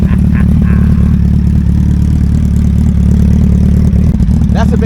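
Suzuki Hayabusa motorcycles idle and rumble at a Busa Fest meetup at Hard Rock, a loud, steady low engine drone filling the whole clip with faint voices underneath.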